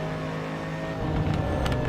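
A Lamborghini road car in Assetto Corsa driving at Goodwood gives a steady, close engine drone that swells slightly as it builds revs, with no talking.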